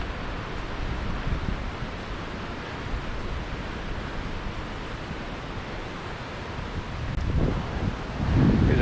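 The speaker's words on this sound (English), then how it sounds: "As we get to this area, the wind kind of picks up. You probably can hear that on my camera." Wind gusts across the former Elwha Dam site, a steady low rumble with rustling that swells louder toward the end, no talk.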